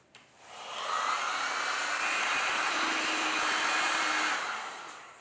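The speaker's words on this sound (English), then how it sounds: "Quick blasts with the heat gun to dry out the surface so that it's easier to shape" A heat gun dries the surface of a leather-hard clay pot with a steady, loud blowing whoosh that ramps up, holds for a few seconds, then tapers off.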